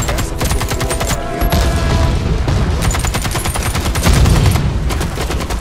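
Constant loud gunfire from the online shooter Warface: rapid automatic bursts and overlapping shots that fill the whole clip, no pause and no talking.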